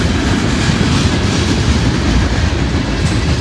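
Freight train cars rolling past on rails, a loud, continuous rumble with rhythmic clickety-clack of wheels close by, without talking.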